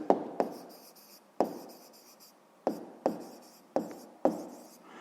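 Pen strokes on paper while a math exercise is written out, a series of short sharp scratches in separate bursts, each fading quickly, close and fairly quiet with no talk.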